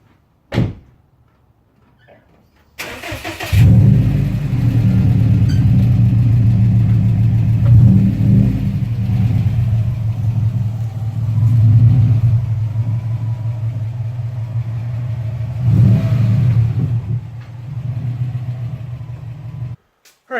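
A 2007 Subaru STi engine starts with a thump and then runs with a loud, rumbling drone, rising in a few revs before shutting off.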